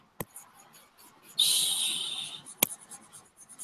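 Pen or pencil scratching across paper, a steady hissy stroke lasting about a second, framed by a few sharp taps and faint background noise.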